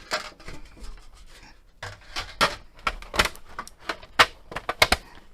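Pink card stock fed through a die-cutting machine with a flower embellishment die, giving a string of rough mechanical clacks and grinding rasps that grow louder and more spaced toward the end, close by with no talk.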